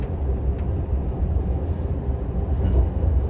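Steady low rumble and rattle of a moving train heard from inside a passenger car, continuous and fairly loud with no talk.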